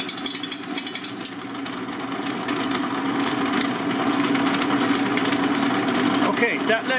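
A resharpened drill bit grinds into Hardox wear-resistant steel, a loud rattling motor whine with harsh hammering vibration that builds and strains, with a voice over it.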